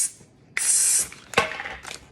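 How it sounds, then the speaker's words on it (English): A short hissing spray burst inside a bag, then a second quicker spritz a moment later, close up in an otherwise quiet room. "Now I'll take magic spray and spray inside bag."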